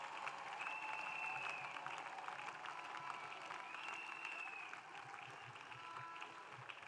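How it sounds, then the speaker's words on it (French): A church congregation claps steadily and continuously at a revival service, a dense sustained wash of applause with some faint sung or whistled tones running through it. "Acclamez Jésus-Christ. Clap for Jesus."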